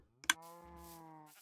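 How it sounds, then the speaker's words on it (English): A single sheep in a Minecraft sheep farm bleats once in a long, wavering tone after a sharp click, clear and alone against quiet. "and then we got our little sheep farm"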